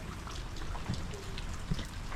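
Rain falling in Bali during the rainy season, a soft continuous patter with a few heavier drops standing out, fairly close and moderately quiet, with no talking.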